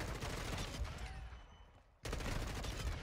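Dense bursts of gunfire crackle in Warzone 2.0, cutting to a quieter stretch before loud shooting returns abruptly.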